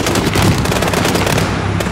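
Rapid automatic gunfire in Call of Duty: Modern Warfare during a compound firefight at a residence: a loud, sustained rattle of close shots with no pause.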